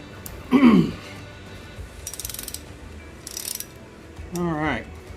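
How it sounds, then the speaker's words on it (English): Breaker bar ratcheting in short clicking bursts while loosening a cylinder head bolt, with a couple of brief voices talking between the clicks; close and moderately loud. "Take the breaker bar here."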